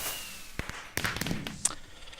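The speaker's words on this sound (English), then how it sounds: "Fireworks." Fireworks in a video game pop and crackle in a quick burst of sharp, close bangs, followed by fizzing sparkle and faint whistles.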